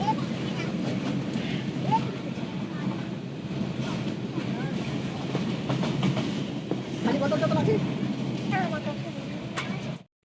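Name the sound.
train running, heard from inside the carriage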